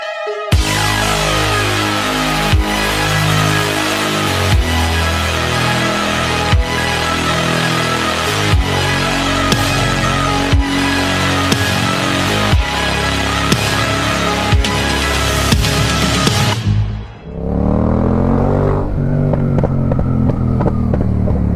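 Motorcycle engine revving hard through its exhaust, a loud close roar with repeated sharp throttle blips and rising harmonics, then an abrupt drop to a lower idle burble near the end.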